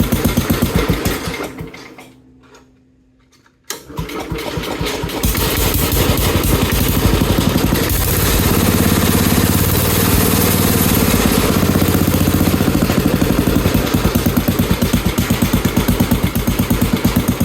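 A Sears 10XL garden tractor engine runs loud and steady at idle with a fast, even chugging rhythm, briefly dropping away near the start before coming back strong and continuous.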